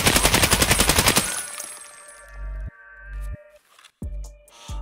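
Video game machine gun firing a rapid, loud burst of evenly spaced shots with recoil for just over a second, followed by ringing tails, mechanical clicks and a couple of low thumps.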